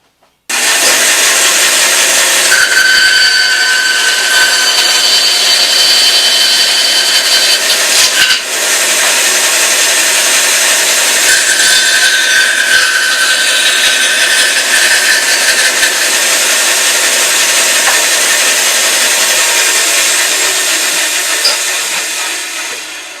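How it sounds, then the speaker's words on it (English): A bandsaw cuts through a wooden board for a homemade landscape fabric pin inserter, a steady loud buzzing rasp that holds for about twenty seconds with a brief dip partway through, heard alone without talk. "put it on the bandsaw and cut that out"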